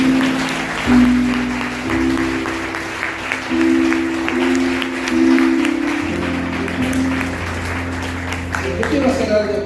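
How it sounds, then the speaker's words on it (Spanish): A church audience applauds with loud, steady, close clapping while sustained musical tones and some talk carry on underneath. "El aplauso."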